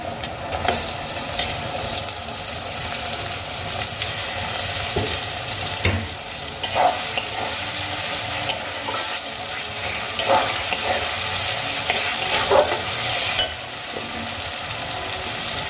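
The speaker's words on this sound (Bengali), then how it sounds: "এখানে আমি পেঁয়াজ আদা রসুন আর কাঁচা লঙ্কা খুব ভালো করে ভেজে নিয়েছি এবার দিয়ে দেবো এর মধ্যে দুটো কুচিয়ে নেওয়া টমেটো" Chopped tomatoes go into a pan of frying onion, ginger, garlic and green chilli for a Bengali methi dal, giving a steady loud sizzle with intermittent scraping stirs throughout, no voices.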